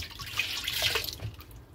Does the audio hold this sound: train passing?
no